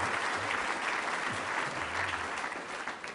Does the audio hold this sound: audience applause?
yes